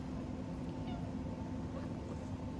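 A pet cat gives a faint, brief meow partway through, nearly buried in a steady, noisy indoor background hum.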